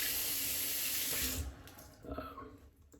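A synthetic shaving brush rinsed under a running bathroom tap: a steady, close hiss of splashing water that cuts off partway through, leaving faint drips and trickles.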